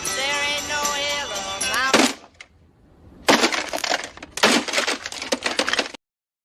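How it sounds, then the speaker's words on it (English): An alarm clock is smashed after a ringing tone, with sharp cracking and breaking impacts in two loud bursts of clattering debris separated by a short quiet gap, close and harsh. "Smashing the alarm."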